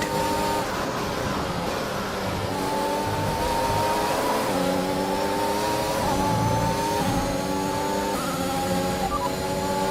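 An F1 2021 race car in the video game runs on the old Australian Grand Prix layout, its engine whining loudly and climbing repeatedly in pitch as it accelerates through the gears, with no talk over it.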